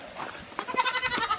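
Goats on a farm bleat nearby in a short, loud burst of wavering, nasal cries lasting just over a second.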